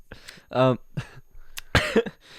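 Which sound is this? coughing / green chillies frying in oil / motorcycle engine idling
coughing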